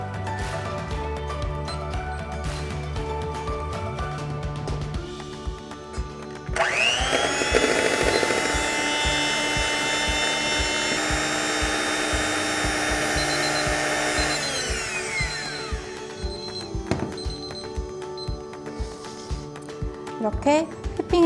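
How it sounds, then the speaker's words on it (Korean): An electric mixer whips eggs and sugar at high speed over a warm water bath, a loud steady whine that runs for several seconds and then cuts out, with talking before and after it. "중탕물에 담그고 계란 설탕을 휘핑할 건데요"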